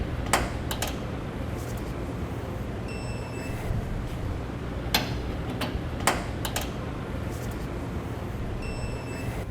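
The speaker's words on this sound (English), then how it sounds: "We want to go through and torque all 8 fasteners down appropriately." Torque wrench giving sharp, isolated clicks in small clusters while trailer hitch fasteners are tightened under a car, set against a faint steady background hum.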